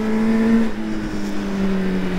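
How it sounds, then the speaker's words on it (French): A motorcycle engine on a dynamic ride through the Gorges de la Bourne mountain road, holding a steady, high-pitched singing drone with slight pitch shifts, close and continuous with wind. "Alors vous entendrez peut-être un peu son moteur, comme ça, tu vois."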